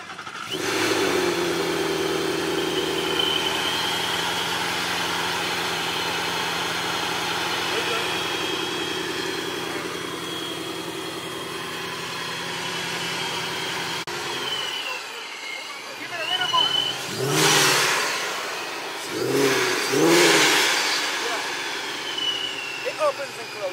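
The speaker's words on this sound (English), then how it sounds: "we got the Mustang back up and running" A Ford Mustang engine idles steadily with a constant drone, then cuts out and is restarted, giving several sharp revs that rise and fall, close by. Someone talks over parts of it.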